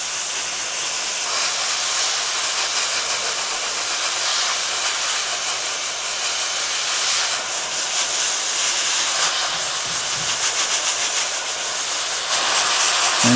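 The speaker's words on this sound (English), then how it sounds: "Just the same up and down motion as if you're kind of streaking with the airbrush." An airbrush sprays paint in up-and-down streaking strokes across the panels of a Sturmgeschütz III Ausf B model tank, a close, continuous airy hiss with slight pulsing and no voices.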